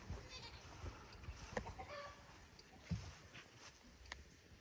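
Female goats in their pen on a homestead, faint short bleats and scattered shuffling noises over a quiet outdoor background, with occasional soft thumps close by.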